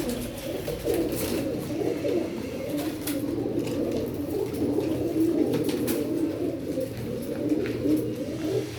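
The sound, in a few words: teddy pigeons cooing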